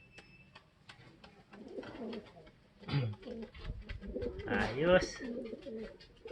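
Racing pigeons coo in a low, repeated burble mixed with chirps and flutter, close by and fairly soft, while someone speaks over them during a derby race.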